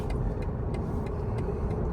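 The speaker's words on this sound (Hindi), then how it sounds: "ये पीक आवर का वो है अपना ट्रैफिक" Peak hour road traffic in Australia, a quiet steady hum of car engines with faint regular ticking over the top.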